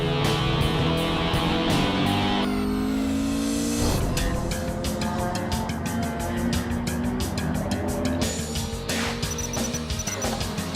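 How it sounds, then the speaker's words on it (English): A Dodge Neon race car drives on a track in an endurance race, its engine revving loud and steady, rising and falling through gear changes with brief tire noise and no talking. "while Eric, in a heroic and determined drive, races the Team Los Cedros Valladares Neon up to 8th place"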